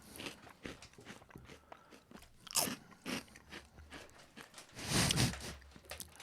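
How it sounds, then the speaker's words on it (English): Someone eating a crunchy beer snack, with several irregular loud crunches and bites spread out over a few seconds, close to the microphone and no speech. "you're just going to hear this random crunching sound every once in a while"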